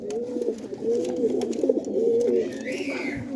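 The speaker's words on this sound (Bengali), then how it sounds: "কবুতরটা গিরিবাজ" A male Giribaz pigeon coos in soft, repeated low rolling phrases, close and steady, with a faint higher chirp near the end.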